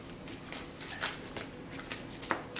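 Magic cards being riffled and shuffled at a table, a run of soft papery flutters and crisp snaps with a few sharper bursts, close by and without talk.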